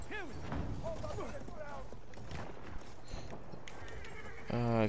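Horse hooves pound at a gallop with several whinnies and a loud neigh near the end, set in the First World War shooter Battlefield 1, with game noise and voices throughout.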